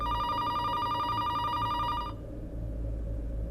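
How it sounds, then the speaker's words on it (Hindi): A telephone rings unanswered in a home during a TV drama, with steady repeated electronic ringing for about two seconds that then stops, leaving low background hum. "घर में कोई फोन ही नहीं उठा रहा है"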